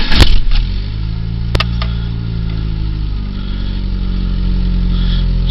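Plymouth Sundance with a throttle body injected engine cranking and catching with a short burst, then settling into a steady, even idle heard close up and alone.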